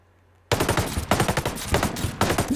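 Sustained automatic fire from an MK48 Compact machine gun in the Ghost Recon Breakpoint video game, a loud, dense rapid burst that starts abruptly after a short quiet moment and continues without pause.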